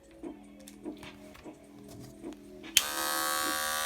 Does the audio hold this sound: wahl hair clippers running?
yes